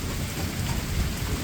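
A heavy thunderstorm in Bauxite, Arkansas pours steady rain with a continuous low rumble of thunder underneath, loud and enveloping throughout with no voices.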